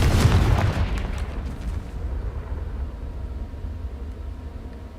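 Confringo explosive spell cast in the Hogwarts Legacy video game: a loud booming blast at the start that decays into a low rumbling tail lasting several seconds, with no talking.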